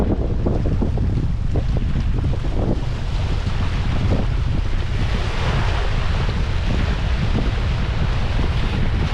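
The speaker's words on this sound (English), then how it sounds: "So the tarp stayed up just fine in this wind, but look at these waves, folks." Strong wind buffets the microphone while waves slap and wash steadily along a Boundary Waters lake shore on an overcast camping day, a loud continuous roar with no talk.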